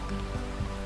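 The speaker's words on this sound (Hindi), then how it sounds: "अभी बारिश हो रहा है ना।" Steady rain falls heavily, producing a dense, continuous hiss with soft patters on a surface and a few low thuds, close and unbroken, with no talking.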